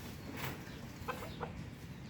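Chickens at an animal shelter for rescued strays give a few soft, short clucks over faint background noise, fairly distant and quiet.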